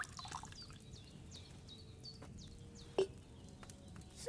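Wine pours into a cauldron in Kingdom Come Deliverance 2 as a faint, steady trickle under quiet birdsong, with a single soft knock partway through.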